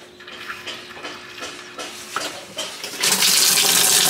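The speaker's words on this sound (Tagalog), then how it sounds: "Lagyan na natin ng tubig tong washing machine." Water fills a washing machine in an off-grid home: faint clatters and trickles at first, then a loud, steady gushing rush takes over for the final second or so.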